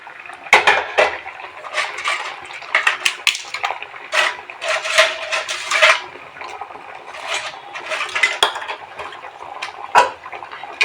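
Fried papad and ghee go into a pot of simmering Bengali papad curry, bringing a busy run of near clattering, scraping and wet stirring sounds with bursts of spoon on metal and no talk.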